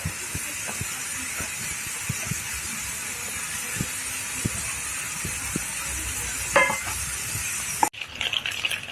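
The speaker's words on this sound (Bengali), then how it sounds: "এই জায়গায় ডিম ভাজা হচ্ছে" Eggs sizzle in a frying pan during home cooking, a steady close hiss with scattered small pops and a brief clatter near the end; no one speaks.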